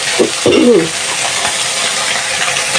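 Small fish heads frying lightly in oil, a steady soft sizzle throughout with a couple of brief stirring clinks near the start, close and moderately loud.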